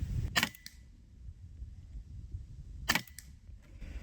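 Two sharp shots from an SK19 full-auto PCP air rifle firing 25.39-grain JSB pellets, spaced about two and a half seconds apart, each a crisp loud crack with a short tail over quiet outdoor ambience.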